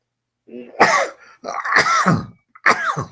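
Three sharp, explosive bursts from one person in quick succession, close to the microphone, each a forceful sneeze-like expulsion with short pauses between.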